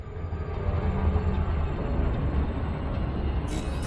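A frameshift drive charges in the space game Elite Dangerous, a continuous loud low rumbling drone with a steady tone that ends with a sudden brighter swell.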